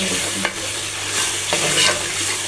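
A steady, close sizzle of ginger, garlic, green chilli and tomato paste frying in hot oil in a pot, with a couple of soft stirring scrapes.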